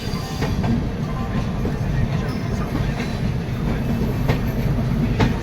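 The Howrah Jodhpur Express pulls into Pandit Deen Dayal Upadhyaya station. A loud, steady rumble of rolling wheels carries faint rhythmic clacks over the rails throughout.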